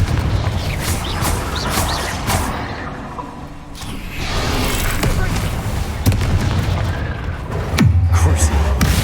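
Fire-spell explosions from Confringo in the video game Hogwarts Legacy, heard as loud, repeated booms and bursts amid busy combat noise and in-game voices.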